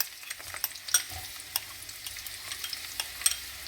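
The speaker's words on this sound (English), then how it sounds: "the oil is sizzling, so let's add in our chopped onion" Steady crackling sizzle of chopped onions frying in hot oil, with scattered sharper pops and light stirring scrapes close by.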